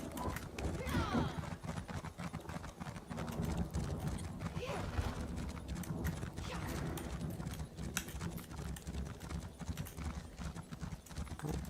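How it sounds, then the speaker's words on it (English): Horse hooves clip-clopping in a steady, fast rhythm as a mount gallops in the Elder Scrolls Online game, continuous and close, with faint game effects around them. "Ride around on a horse. It's faster."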